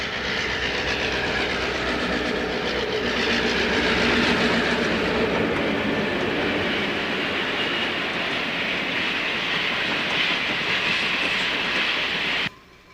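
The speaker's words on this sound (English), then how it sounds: "Arriving in Chicago is train number 71, the Admiral." Pennsylvania Railroad passenger train number 71, the Admiral, arriving in Chicago: a loud, steady rolling roar of wheels on rails with clickety-clack and hiss, holding level throughout before cutting off abruptly at the end.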